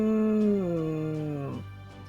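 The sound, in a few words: person imitating cat noises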